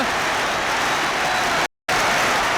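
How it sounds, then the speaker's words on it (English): Football crowd at a West Ham match clapping after a goal, a dense, sustained round of applause without cheering, loud and continuous apart from a brief dropout. "an absolutely spontaneous round of clapping, not cheering, as this crowd rises to that tremendous run by Brooking"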